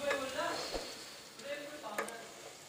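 Sliced onions fry quietly in a pot, giving a faint, steady sizzle with a few light stirring scrapes.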